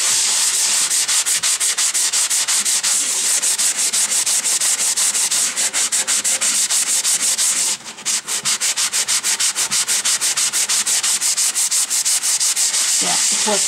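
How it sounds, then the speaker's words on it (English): Steady, rapid back-and-forth rasping of a sanding block on slightly wet paint on a staircase, close and continuous, with a brief pause near the end before it resumes. "So I have a sanding block."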